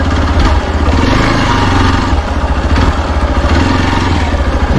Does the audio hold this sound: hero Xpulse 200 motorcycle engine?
yes